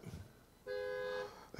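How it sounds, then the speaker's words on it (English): A single car horn honks outside, one steady toot of about half a second that cuts in clearly over the quiet room tone of a church sermon. "I don't even want to know who honked that horn."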